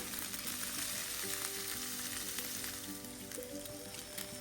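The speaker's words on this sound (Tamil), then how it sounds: "வாஷ் பண்ணி வச்சுருக்கிறேன் அதையும் வந்து இதில் சேர்த்துடலாம் சேர்த்துட்டு ஓரளவுக்கு நல்லா ஃப்ரை பண்ணிக்கோங்க" Dried anchovies (nethili karuvadu) fry in oil in a pan, giving a steady, dense sizzle that holds at an even level throughout, close and alone without any talk.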